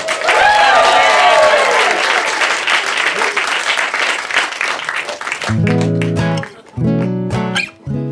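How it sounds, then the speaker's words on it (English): Applause from a comedy club audience fills the room for about five seconds, then gives way to a loud electronic tune playing in short bursts. "applause for Topher. It's his birthday today"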